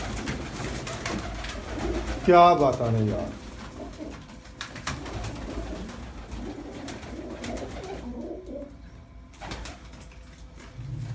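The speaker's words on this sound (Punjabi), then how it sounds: "ਬਹੁਤ ਹੀ ਲਾਜਵਾਬ ਕਬੂਤਰ ਨੇ।" Pigeons in a coop cooing softly at close range, with a brief wing flutter early on and someone talking over part of it.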